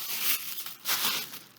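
A plastic trash bag is crunched and crinkled up close, with two loud rustling bursts in quick succession.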